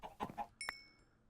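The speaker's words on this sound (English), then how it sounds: "My base is overrun with chickens." Chickens cluck a few times in a player's video game base, with several short close clucks followed by a sharper, brighter call and a fading synthetic tone.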